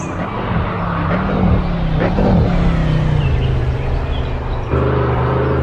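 A toy race car runs fast and close by with a steady, loud motor whir and slight revving swells, continuous throughout without talk.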